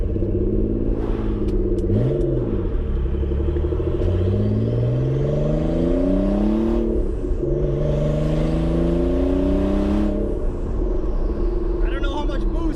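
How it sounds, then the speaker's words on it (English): A loud Nissan 300ZX Z32 engine with a heavy exhaust rumble runs continuously, rising and falling in pitch as it revs and shifts, with no pauses. "Engine sounds very good. Exhaust is obviously loud,"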